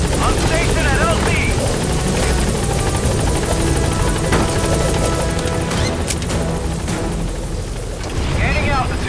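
Military transport helicopter Pequod from Metal Gear Solid 5: The Phantom Pain landing at a landing zone, with loud, steady rotor thump and engine roar filling the whole stretch and game voices talking over it.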